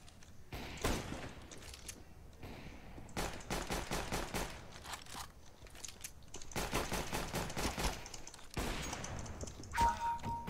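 Gunfire in the video game Counter Strike: repeated rapid bursts of automatic shots in several clusters separated by short pauses, crisp and fairly close, with no talk over it.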